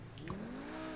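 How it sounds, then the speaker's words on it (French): Car tires squealing in a video game parkour course, a short rising screech that sweeps and then holds as a sustained tone over engine noise, lasting about a second. "t'as pas besoin de faire crisser les pneus"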